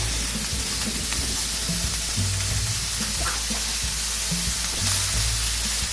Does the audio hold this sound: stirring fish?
yes